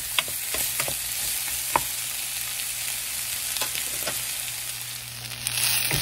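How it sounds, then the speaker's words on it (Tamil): Steady frying sizzle of onions sautéing in a pan, with a few sharp clicks and scrapes of stirring scattered throughout, close and continuous. "பார்த்தீங்கன்னா வெங்காயம் நல்லா வதங்கிடுச்சு"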